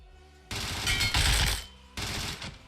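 Automatic weapon sprayed in PUBG Mobile: two loud, sustained bursts of rapid fire, the first longer, separated by a brief pause, alone without speech.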